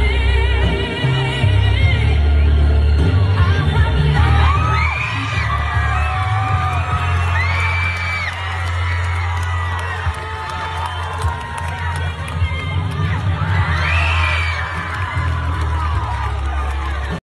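Middle school children cheer, whoop and shout in a loud crowd after a drag queen's lip sync performance, the noise sustained over heavy low music with excited voices rising in waves.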